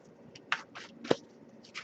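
Tarot cards are shuffled in quiet, separate bursts, with soft papery riffles and a couple of sharper slaps, heard close and alone.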